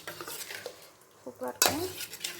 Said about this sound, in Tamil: உப்பு போட்டு அப்படியே நல்லா வந்து மிக்ஸ் பண்ணி விட்டுருங்க